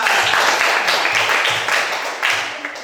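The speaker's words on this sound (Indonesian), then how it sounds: "Tepuk tangan." A group of students in a classroom claps hands together for a few seconds, the claps fairly close and dense before gradually tapering off.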